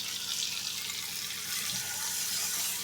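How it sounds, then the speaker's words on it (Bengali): About half a cup of water poured into a pan of fruit chutney seasoned with turmeric and salt, a steady close hiss of flowing liquid running evenly throughout with no voices. "এবার আমি এর মধ্যে 1/2 কাপ মতন জল দিয়ে দেবো।"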